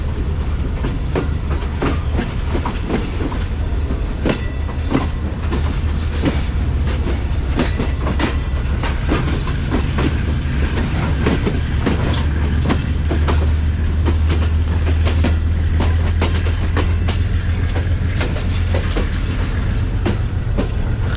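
The Subak Raftar railcar runs loud and close on rails toward Lahore, with a continuous rumble and a steady clickety-clack of wheels over rail joints the whole time.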